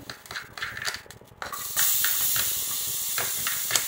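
Beans and collard greens with garlic sautéing in a hot pan for feijão tropeiro, a soft sizzle that swells into a loud, steady hiss as food hits the oil, with faint stirring.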